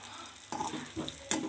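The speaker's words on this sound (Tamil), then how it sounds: "தேங்காவை நெய்யில் வறுக்கணும்." Small pieces of coconut fry in ghee for payasam, making a soft, quiet sizzle with a few brief stirring scrapes, close by, with no talking.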